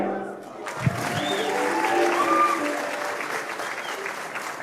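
Audience applause for the Public Service Commission Choir at a graduation ceremony: a steady, moderately loud burst of clapping from a crowd, with a few faint voices mixed in.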